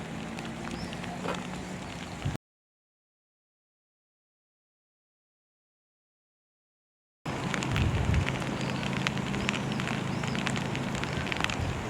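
Rain falls steadily outdoors in Provence, a soft continuous hiss broken by a few seconds of total silence before the downpour resumes slightly louder.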